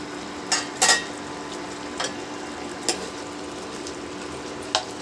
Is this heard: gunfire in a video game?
no